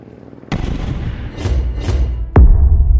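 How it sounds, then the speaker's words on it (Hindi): Hand grenades explode above a stadium in an animated detective story. Two loud, close booms land about two seconds apart, with a rolling rumble between them and after. "स्टेडियम के ऊपर पहुंचते ही मेहुल हैंड ग्रेनेड फेंकने लगता है।"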